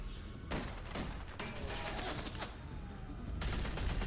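Gunfire from The Walking Dead video game, Telltale Season 3, rattles in a dense continuous volley of rapid shots, loud and sustained with sharper cracks standing out, no talking over it.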